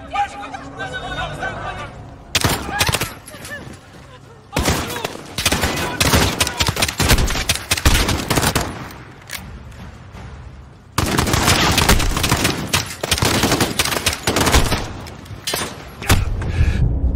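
Heavy gunfire from the Call of Duty: Modern Warfare campaign comes in loud bursts of automatic fire and fusillades, broken by brief quieter gaps with game voices talking.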